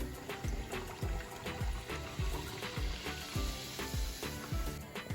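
Puri frying in hot oil, giving a steady, loud broadband sizzle with bubbling and soft rhythmic low thumps, close and continuous with no talking.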